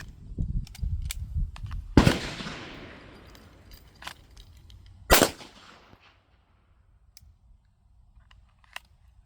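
Pistol shots ring out after drawing from the holster, two loud sharp cracks a few seconds apart, each with a long decaying echo on an outdoor range, after brief faint sounds at the start.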